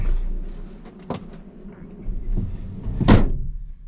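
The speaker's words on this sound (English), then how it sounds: "close the doors" Door of a Toyota FJ Cruiser pushed shut with a single solid thunk near the end, after quieter handling noises inside the cabin.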